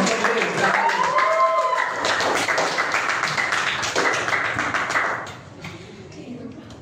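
Primary school pupils clap in a classroom during a lesson on artificial intelligence. The fairly loud, uneven clapping lasts about five seconds over children's voices, then quickly fades into quieter room noise.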